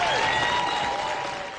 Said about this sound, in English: Let's give a round of applause, if we can